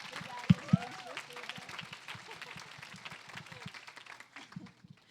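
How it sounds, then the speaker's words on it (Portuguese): A modest crowd at the FETECON 2025 event gives another round of clapping for the organizing team, scattered soft claps running beneath a speaking voice, with a couple of sharper thumps near the start. "Eu vou pedir mais uma salva de palmas para essa equipe maravilhosa"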